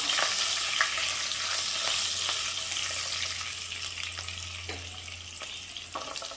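Green chillies frying in hot oil for palak paneer, a loud continuous sizzle and spatter with occasional stirring clicks, fading slightly toward the end.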